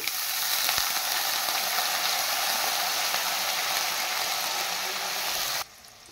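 Onions fry in a pan for a Bengali home-style boal fish dish, giving a steady, close hiss of sizzling oil that runs evenly for several seconds before cutting off abruptly.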